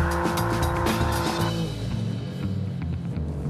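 An Alfa Romeo car is driven hard, its engine roaring loudly and steadily with a squealing edge from the tires before the pitch drops slightly and the sound eases.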